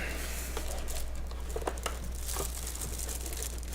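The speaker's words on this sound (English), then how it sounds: "let's just get this out of the box" A Corsair K55 RGB keyboard being pulled from its box, with soft crinkling and rustling of packaging and a few light taps and scrapes, close and quiet.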